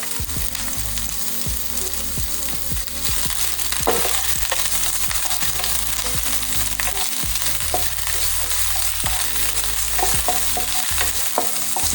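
Crushed onion, garlic and a sprig of curry leaves frying in hot oil for a Kerala parippu curry, giving a loud, steady sizzle with repeated stirring scrapes throughout.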